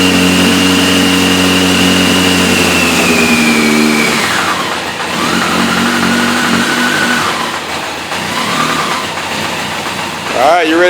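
A Kawasaki ZX-14 motorcycle engine runs loud and close, holding a steady tone before revving up and dropping back several times.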